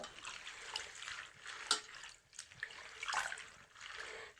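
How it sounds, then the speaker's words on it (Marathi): Leafy greens (cowpea and wild vegetable leaves) being washed in a few changes of water, close splashing and sloshing in uneven bursts with soft trickles between, no talking. "स्वच्छ ह्याला धुवून घ्यायचं दोन चार पाण्याने खळखळ खळखळ"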